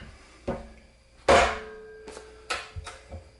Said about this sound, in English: I find the best way is to strike it with a hammer